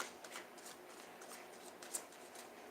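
Tarot cards riffle and slap in quick, soft bursts, close and quiet, a steady shuffling rustle with small flicks throughout.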